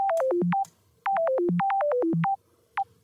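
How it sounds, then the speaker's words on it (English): Synth arpeggio programmed in FL Studio: two bright runs of quick descending stepped notes, each falling through five or six pitches, followed by a single short blip at the end, with no voices. "Let's put in the MIDI for our ARP and set it to ARP function in FL Studio"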